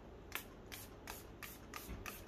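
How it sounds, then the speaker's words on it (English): Six short hissy bursts of alcohol sprayed onto resin in a steady rhythm, each a quick airy puff with brief quiet gaps between, fairly faint and close. "I might just spray a little bit of"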